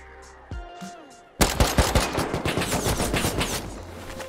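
AK rifle fire in the Rust video game, opening with a faint shot or two, then breaking into a loud, rapid sustained burst of automatic fire close by.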